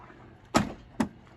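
A vehicle door clunks open, then a moment later shuts with a second solid thud, both close by in a quiet setting.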